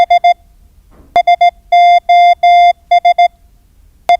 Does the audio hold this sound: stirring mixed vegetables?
no